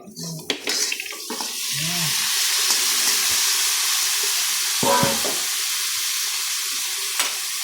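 Octopus adobo stirred in a pan: a few metal clinks and scrapes open, then a steady, moderately loud sizzle settles in, with another brief clatter of the utensil near the middle.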